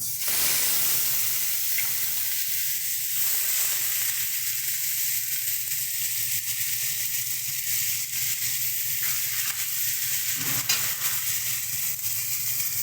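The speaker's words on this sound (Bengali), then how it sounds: "কড়াইয়ে তেল দিয়ে পেঁয়াজ বাটাটা দিয়ে দেবো" Onion paste hits hot oil in a wok for fish curry, giving a loud, continuous sizzle and hiss with occasional stirring scrapes, no voices over it.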